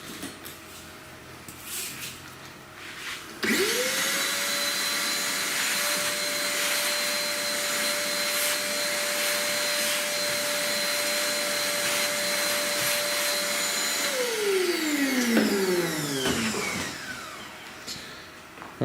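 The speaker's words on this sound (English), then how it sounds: "get our vacuum cleaner out and just give this a quick vacuum" A vacuum cleaner switches on and runs steadily with a constant whine while cleaning dust from a CNC-routed 3D wood carving, then winds down as it is switched off.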